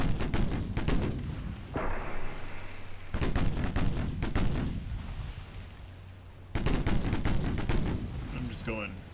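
Seven-inch naval guns firing in the Ultimate Admiral Dreadnoughts warship game, several loud booming salvos in separate bursts, each followed by a rumbling decay, with sharp cracks near the end.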